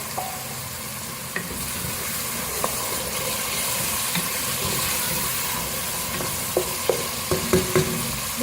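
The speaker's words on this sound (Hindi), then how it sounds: "पानी शामिल कर देंगे ताकि मसाला हमारा रेडी हो जाए।" Steady frying sizzle with occasional stirring clinks and scrapes, as water hits a hot masala for mutton kofta curry in the pan; no talking.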